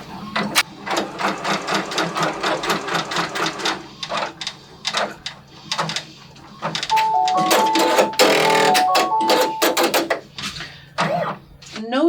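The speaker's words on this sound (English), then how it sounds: "I'm just going to baste in the hoop and see if we're good." Embroidery machine basting fabric held in a hoop, a close rapid mechanical stitching chatter running in bursts with brief pauses and a few electronic beeps; someone talks briefly.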